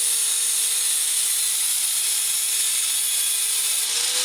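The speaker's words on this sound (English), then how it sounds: "grinding inside the house" Continuous grinding inside a house, a loud, steady, harsh whine that holds without a break for the whole stretch, with no talking over it.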